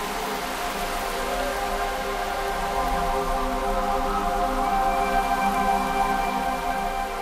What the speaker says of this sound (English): This rain will turn the Brahmaputra River into an unpredictable torrent